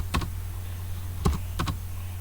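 Several quick keystrokes on a computer keyboard come in small clusters, close and clear over a low steady hum, with brief pauses between bursts.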